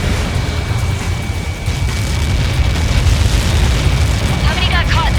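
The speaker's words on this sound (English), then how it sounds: "How many got caught in that explosion?" A massive explosion in the combat flight game Ace Combat 7: Skies Unknown, a loud sustained rumbling blast filling the scene from start to finish, with radio voices talking briefly near the end.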